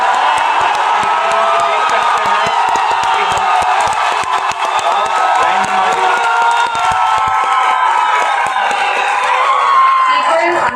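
A large crowd cheers and applauds steadily at the Chandrayaan-3 moon landing, with whoops and scattered shouts rising over a continuous wash of clapping.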